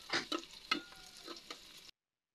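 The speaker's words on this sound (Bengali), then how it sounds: "পেঁয়াজগুলো ভালোভাবে ভাজবো।" Chopped onions frying in soybean oil in a wok, a brief faint sizzle broken by several quick stirring scrapes, close and alone before stopping short.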